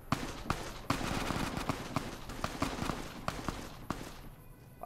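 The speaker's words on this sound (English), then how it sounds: "where do I hear the gunshots coming from?" Bursts of gunfire crackle throughout the video game Fallout: New Vegas, a mix of single sharp shots and rapid volleys over a busy, noisy game soundscape.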